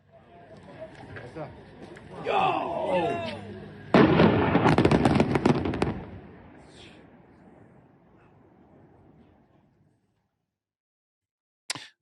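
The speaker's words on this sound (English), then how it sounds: "footage posted online by IDF soldiers appears to show that same explosion from a different angle" Controlled demolition blast in Lebanon: after a brief raised voice, a sudden loud boom breaks into about two seconds of crackling, rumbling debris, then fades to near silence.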